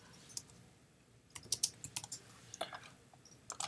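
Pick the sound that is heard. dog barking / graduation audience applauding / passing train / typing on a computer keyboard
typing on a computer keyboard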